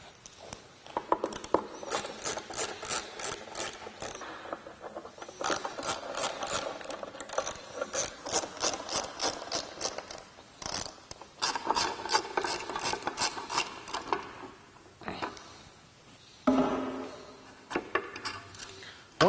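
Ratchet backing out Torx T20 screws from a Jeep JK tailgate panel, rapid clicking pawl bursts in repeated runs with short pauses between, close and moderately loud.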